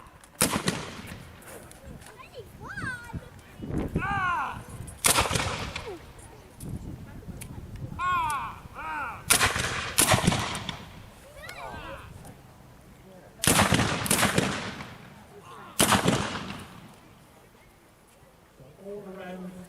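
Black-powder rifle volleys fired by Victorian-era soldiers at a military reenactment at Fort Brockhurst, Gosport: about six loud, sharp cracks spaced through the clip, each with a short echoing tail, and shouted commands and chatter between shots.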